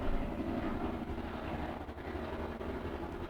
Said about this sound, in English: Wow, that is a low-flying helicopter.